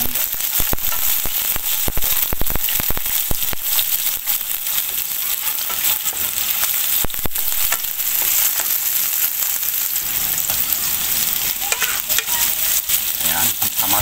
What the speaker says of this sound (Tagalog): simulan na natin ating pagigisa